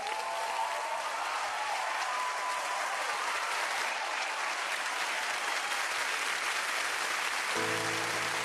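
Studio audience applause on a Bulgarian TV impersonation show, welcoming a performer imitating a pop star; dense, sustained clapping fills the whole stretch at steady loudness, with a music cue entering near the end.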